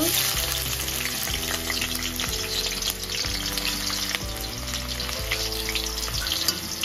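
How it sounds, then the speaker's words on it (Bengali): Chopped onions fry to a reddish brown in a pan for a country chicken roast, a steady, close sizzle running throughout beneath background music. "পেঁয়াজটা ভালো করে লাল করে ভেজে নেব"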